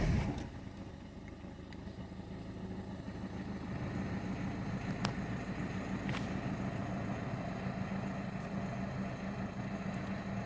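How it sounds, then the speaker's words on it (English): A car engine cranks briefly and settles into a steady idle during an alternator charging test, a continuous low hum running evenly to the end. "we're just going to start the engine now"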